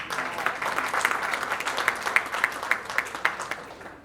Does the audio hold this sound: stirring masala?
no